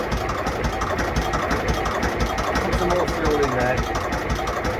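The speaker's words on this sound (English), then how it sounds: "I'll do it with the button so you can see, and then she'll fire up." A 52-foot tug-style narrowboat's engine runs at a steady, low rumbling idle just after starting, close and continuous, with someone talking over it.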